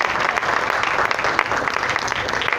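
Audience applause for a folk dance director at a public event in Tuxpan, a steady dense clapping that fills the whole stretch evenly and loudly, with no pauses or talk.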